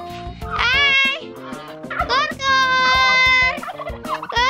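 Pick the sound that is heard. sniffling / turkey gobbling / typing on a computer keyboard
turkey gobbling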